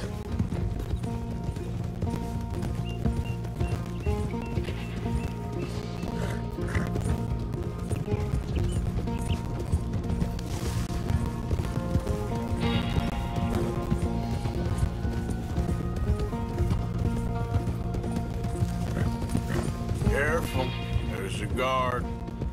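A horse carries a rider along a trail in the Western video game Red Dead Redemption 2. Steady clip-clop of hooves runs under a continuous music score, with occasional louder clatter, for over twenty seconds.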